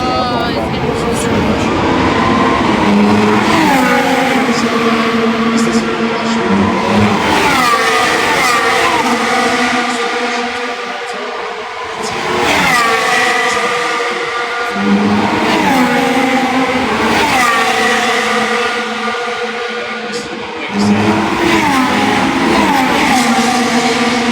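Formula 1 race cars lapping a circuit, their engines a continuous loud roar with rising and falling passes, heard under steady race commentary throughout.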